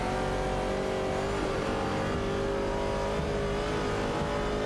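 In an AI racing video game, the engines of a 1968 Pontiac Firebird and an Opel Commodore roar continuously at high revs, loud and steady, with slight pitch shifts as the cars accelerate, and no talk.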